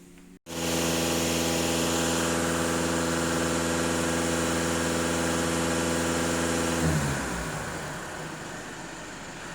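VW Passat B8 2.0 TDI EA288 diesel starts after a brief click and idles steadily with an even, close mechanical drone, then the engine note shifts and fades slightly toward the end.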